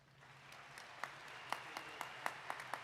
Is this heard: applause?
yes